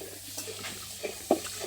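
Potatoes frying in a pan for a Bengali chholar dal breakfast, giving a steady low sizzle with a few soft stirring scrapes and one sharper knock of utensil against pan, close up.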